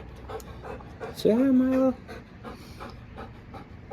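A pet dog named Milo pants softly near the microphone. A person speaks over it, and a clear whine or yip stands out partway through.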